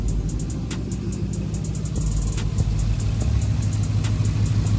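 A Dodge Charger SRT8 with long-tube headers idles with a deep, rumbling exhaust drone that stays loud and steady throughout, swelling slightly toward the end.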